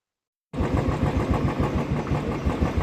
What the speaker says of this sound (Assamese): বাইকখন ষ্টাৰ্ট কৰি ল'লোঁ